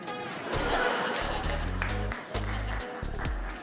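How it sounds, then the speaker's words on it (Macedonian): An audience applauds at a late-night comedy show in Ohrid, a dense broadband clapping that runs throughout beneath a voice and low, blocky bass tones. "Фала сите тројца машки што дадовте аплауз."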